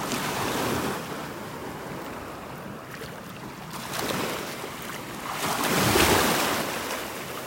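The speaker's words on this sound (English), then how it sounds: "Now it's hard to see them because the waves are breaking right here." Ocean waves break and wash ashore on a beach in North Naples, Florida, a steady surging roar that swells and ebbs, with wind buffeting the microphone and no voices.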